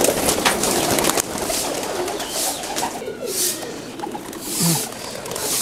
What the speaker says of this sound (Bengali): এটা আমাদের রাজশাহী লোকাল গিরিবাজ কবুতর